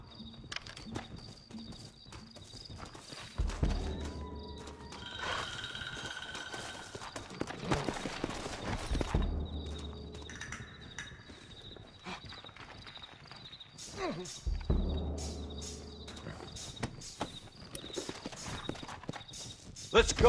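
Horses clip-clopping and galloping in the Red Dead Redemption video game, with hoofbeat bursts arriving in waves over music and ambient noise, moderately loud and close, with some speech in between.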